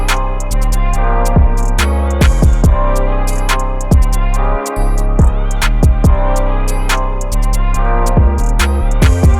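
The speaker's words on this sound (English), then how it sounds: "I drew out an 808 pattern earlier" A UK drill 808 bass pattern programmed in Ableton Live 10 plays loud and deep, with heavy sustained bass notes under sharp, rapid hi-hat and snare hits and a brief dropout midway, no talking.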